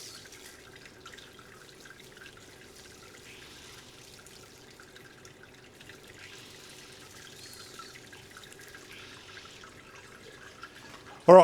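Hot 78-degree sparge water, about 7 litres, poured over a mash paddle onto the grain bed during all-grain brewing of an ANZAC biscuit ale, a soft steady trickle and splash running continuously, fairly quiet.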